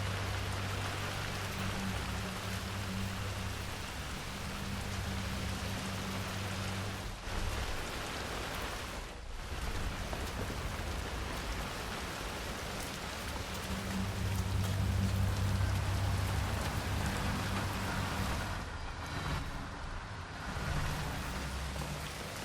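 Steady heavy rain pours down in Hitman 3, a dense, even hiss that fills the whole scene and holds at a constant level throughout, with no voices.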